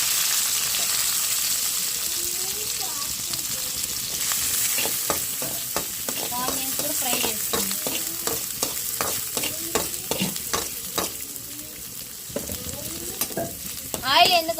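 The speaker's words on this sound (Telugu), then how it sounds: "ఆనియన్స్ కట్ చేసి ఉంచుకుంటాం కదండి ఇంకా వేసుకుంటాం" Chopped onions sizzle in hot oil in a pan while an okra masala curry is cooked, with a steady frying hiss and occasional stirring scrapes and clatters, close by and without talk.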